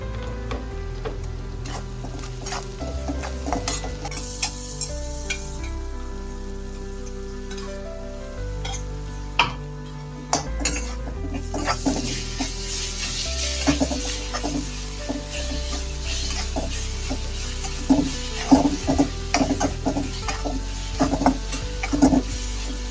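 Asafoetida and turmeric sautéing in a pan of hot oil while brain fry is cooked, a steady close sizzle with occasional stirring scrapes and light clinks throughout.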